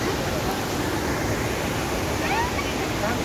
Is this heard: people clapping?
no